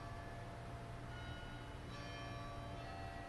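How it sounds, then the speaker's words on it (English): A campus bell at Bowdoin College rings a steady, sustained tone, faint and distant over a constant outdoor hum, with no talking. "a bell that goes every 15 minutes, which is nice"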